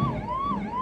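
A fire engine's siren wails in a steady, slowly rising and falling tone during a ceremonial flag-hoisting parade in Amravati, heard clearly but at moderate distance for a brief moment.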